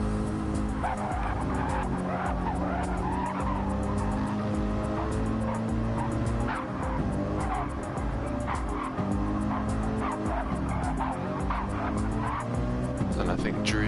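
GT3 race cars in a racing video game at Watkins Glen, engines droning steadily with tyre squeal as cars run wide through a corner, while a commentator talks over the top.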